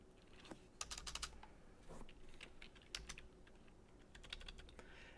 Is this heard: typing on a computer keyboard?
yes